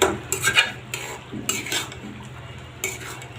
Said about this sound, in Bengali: ভালো করে কষাই তারপরে